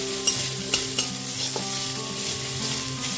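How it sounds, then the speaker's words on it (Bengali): Grated ginger and garlic stir-fried in hot oil in a pan, a close steady sizzle broken by a few sharp spatula taps and scrapes. "গ্রেট করে রাখা আদা রসুনটা খুব ভালো মতো একটুখানি মিশিয়ে নিয়েছি"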